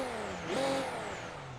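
Engine revving in the racing game Assetto Corsa, a single smooth rise and fall in pitch that climbs and then holds at a steady drone, loud and close with nothing else heard.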